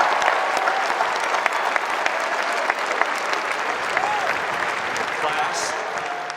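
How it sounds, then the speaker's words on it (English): Large outdoor crowd applauding steadily at a university spring commencement ceremony in Kenan Stadium, Chapel Hill, a dense sustained roar of clapping that holds at full level throughout. "A round of applause for those three classes."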